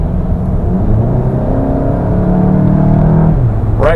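Inside a 2015 VW MK7 GTI with the 2.0 engine, a steady low exhaust growl and engine hum run continuously on the road, loud and close, with a short rising whir near the end.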